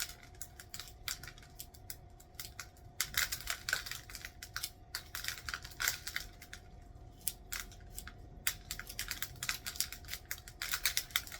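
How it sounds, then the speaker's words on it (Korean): Sharp, irregular snips of scissors or shears cutting through plant roots during repotting, close and crisp, with repeated clicks and crunches in uneven bursts over a low steady background hum. "뿌리를 이렇게 한번 일단 간단하게 제가 잘라 볼게요"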